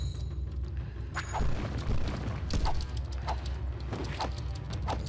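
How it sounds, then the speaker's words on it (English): Firecrackers burst repeatedly in the Avatar: The Burning Earth video game, a rapid series of sharp pops and booms over a steady low rumble of game sound. "I can't use my weapon for a little time while I'm throwing the firecrackers"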